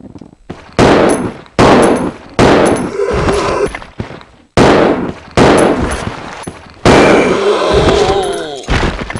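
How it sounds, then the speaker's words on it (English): Billy's handgun fired at a zombie in Resident Evil Zero: six loud, sharp shots spaced roughly a second apart, each with a ringing tail, the last blast carrying a longer echoing decay. "now let's test Billy's handgun on a zombie."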